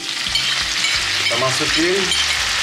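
Coarsely ground red chili fries in hot oil with a loud, dense, steady sizzle close by, and a faint voice briefly murmurs underneath.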